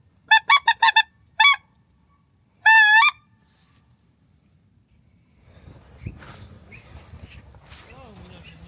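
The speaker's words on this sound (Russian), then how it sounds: "Там гуси." Several loud, nasal goose honks ring out in quick bursts during a hunt in Yakutia, then fade to quieter background rustling and soft movement.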